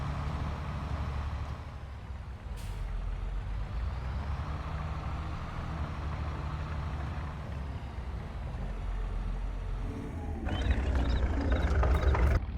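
A truck in Farming Simulator 22 drives with a continuous low engine rumble, a brief hiss partway through, and rising rattling road noise toward the end, with no talking.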